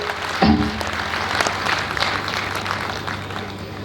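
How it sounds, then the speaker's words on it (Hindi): Applause from an audience fills the room, a brief thud near the start, then steady clapping continuing at moderate loudness. "पूरा सदन अपने हाथ उठाकर जोरदार तालियां बजाकर मां सरस्वती का अभिवादन करे।"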